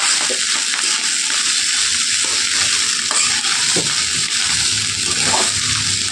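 Egg stir-fried in a pan for chicken fried rice gives a steady, loud sizzle that runs the whole time, with a utensil scraping and stirring now and then and no talking.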